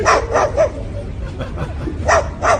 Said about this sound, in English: There's some more dogs.